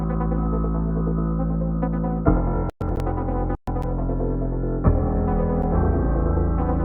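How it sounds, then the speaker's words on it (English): A synth in a dark trap beat runs through a trance gate effect, giving a sustained buzzing, throbbing tone. Two abrupt silent cuts chop it, and the texture shifts at a few points, with no voices. "We'll try a little trance gate on there as well."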